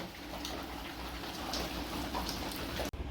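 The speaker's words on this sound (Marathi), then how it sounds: "आता एकदम जोरदार पाऊस चालू आहे बाहेर" Heavy rain patters continuously outside in a village, a dense even hiss of drops with no voices, ending in a brief cutoff.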